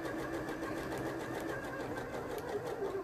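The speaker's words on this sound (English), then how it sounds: "So it's not quite such a dense satin stitch" A sewing machine stitches a satin stitch on jersey for appliqué, giving a steady, even mechanical whir with a rapid needle patter throughout, close and fairly quiet, with no talk.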